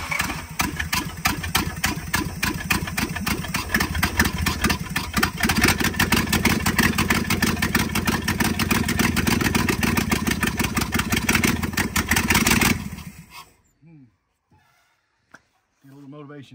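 A 1970 Dodge D300 wrecker truck's engine idling loud and close with a steady rapid pulse for about thirteen seconds before it cuts out, leaving near silence and a few faint knocks.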